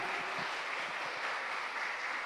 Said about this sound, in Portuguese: Pode aplaudir Jesus, aplauda mesmo